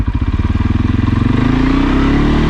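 A 2023 CFMOTO CForce 600 ATV drives in work mode and low range as if towing a heavy trailer, its engine thumping in a loud, rapid, even pulse that climbs steadily in pitch, heard close with no talk.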